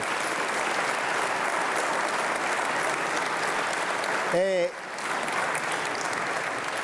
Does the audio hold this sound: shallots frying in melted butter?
no